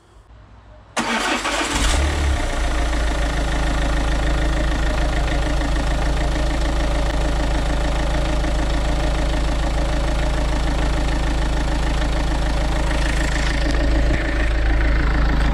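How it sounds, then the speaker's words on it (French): A Renault Kangoo 1.5 dCi diesel engine cranks and catches after a quiet second, then settles into a loud, steady diesel idle with a constant low clatter. "Mise en marche du moteur"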